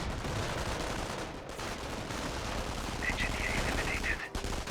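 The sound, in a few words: 30 cal machine gun firing in Company of Heroes video game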